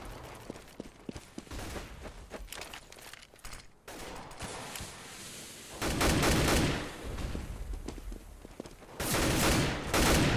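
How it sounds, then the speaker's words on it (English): AK rifle fire in a Counter-Strike match, rapid bursts of automatic gunshots crackling in dense volleys, building louder toward the end with faint footsteps and game ambience between. "Ooh, lots of AK fire."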